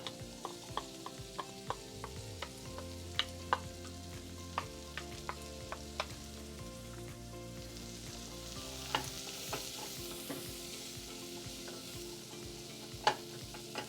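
Chopped leeks fry quietly in butter and bacon grease, giving a soft steady sizzle. Scattered crackles and pops and occasional utensil clinks come through, with no talking.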